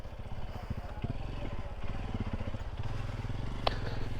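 A parked motorcycle's engine idles close by at a tourist view deck, a steady low throbbing rumble with faint clatter throughout and no speech over it.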